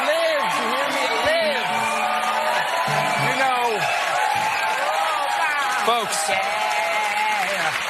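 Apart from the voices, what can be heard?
cheering crowd and applause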